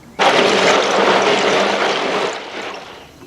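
Salted lake water swished and stirred inside a cooler holding ice, a loud continuous sloshing wash that begins abruptly and fades slightly toward the end.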